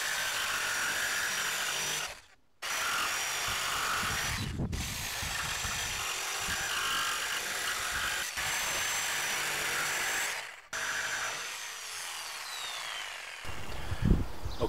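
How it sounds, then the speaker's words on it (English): A jigsaw cuts a van subfloor along marked lines inside a Ram Promaster, its rapid buzzing rasp running in long bursts broken by a few short pauses, close and loud. "This is what we're going to use to run our jigsaw along and cut this shape out."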